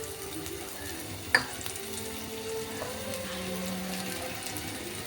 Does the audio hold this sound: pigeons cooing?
no